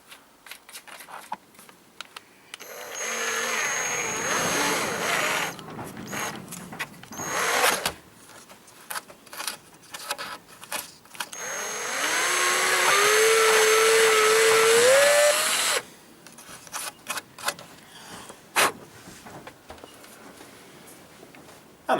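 A power tool enlarges a hole in plastic bodywork from a Yamaha TDM850 motorcycle in a garage, with two bursts of high whining cutting separated by pauses, the second with a rising pitch, plus scattered knocks and handling clicks between them.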